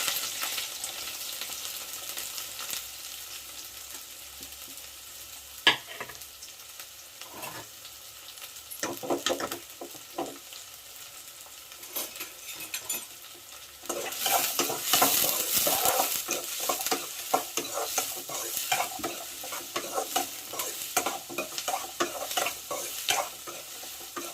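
Mustard seeds sizzle in hot oil in a pan while dried fish thokku is cooked, with stirring scrapes and a louder, crackling burst of frying partway through that carries on to the end.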